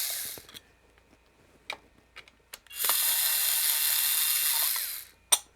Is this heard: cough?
no